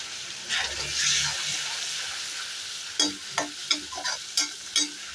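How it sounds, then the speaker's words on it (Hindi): Ground onion paste fries in a pan while being stirred for a green pea nimona, with a steady sizzle and a run of sharp spoon scrapes and taps in the second half. "अब इसी स्टेज पर हम पिसी हुई प्याज इसमें डाल देंगे और उसको अच्छे से भून लेंगे"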